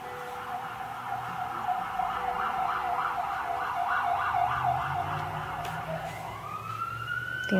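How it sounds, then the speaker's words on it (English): An ambulance siren wails in a steady, rapid up-and-down pattern at moderate distance over road hum, then shifts to a rising tone before fading. "I think that's an ambulance."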